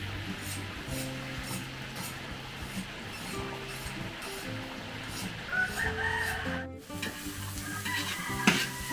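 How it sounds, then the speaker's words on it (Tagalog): Pork adobo being sautéed with onion and garlic in a large heated pan for a holiday party feast: a constant sizzle with stirring, while roosters crow repeatedly in the background. "Dito naman ay nag-iinit ulit tayo ng kawali at sasalang po natin dito yung ating adobo"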